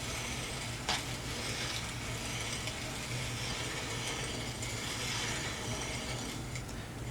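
A hand tool works a plate loose on a Jeep Wrangler ProComp control arm joint, making a steady, close ratcheting clicking that repeats throughout, with one sharper metallic click near the start.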